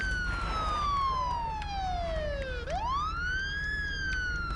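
A video game police siren wails steadily, its pitch sliding down slowly then sweeping back up, loud and close with a faint engine hum beneath.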